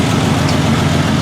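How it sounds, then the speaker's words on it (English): A restored 1968 Triumph TR250 engine idles at about 900 rpm, giving a steady, loud, close, low throbbing rumble with no voices. "it's idling just where it should be, just about 900"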